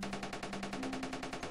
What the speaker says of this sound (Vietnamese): Cơ cơ, bắn liên thanh luôn á.